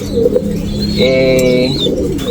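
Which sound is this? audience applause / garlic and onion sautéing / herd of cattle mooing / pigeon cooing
pigeon cooing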